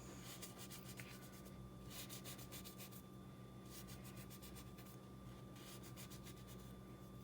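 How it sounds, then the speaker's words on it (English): A small knife scoring little square holes into soft bun dough for garlic chili buns, quiet short bursts of rubbing, scratchy cuts separated by brief pauses over a faint steady background hum. "So we're just gonna cut these holes, little squares on top."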